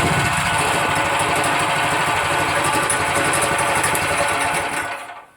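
A go-kart's electric motor runs steadily and loud, close by, with a continuous buzzing whine and fine rhythmic vibration, then cuts off and winds down abruptly near the end.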